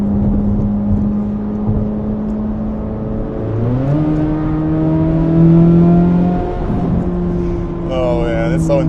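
A Chevrolet Corvette C8 Z06 engine pulls hard and loud from inside the cabin, its rising pitch climbing in steady steps with a brief shift near the end, with no speech.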